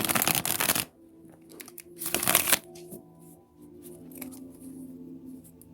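Tarot cards are riffle-shuffled in two loud, fast bursts, followed by quieter handling and soft card sliding, with no voices.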